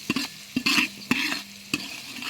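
A spoon scrapes and knocks inside a pot of chicken biryani as it fries, several distinct sharp stirring strokes spaced irregularly over a soft continuous sizzle, close and fairly loud with no voices.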